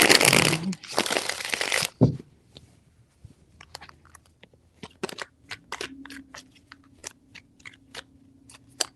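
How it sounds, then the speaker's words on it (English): A tarot deck being shuffled gives a dense, loud riffling burst for about two seconds, followed by scattered sharp taps and clicks of cards being squared and handled. "Three shuffles."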